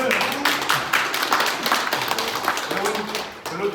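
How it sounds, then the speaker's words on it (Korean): Audience at a Busan party education event applauds a speaker: dense clapping that stays steady across a few seconds, with talk mixed in. "박수 한번 주세요."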